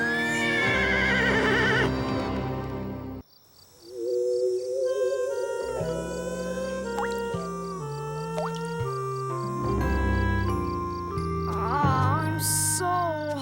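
A cartoon horse whinnies loudly, then neighs again amid clip-clopping hooves and a busy mix of other sounds, fairly close.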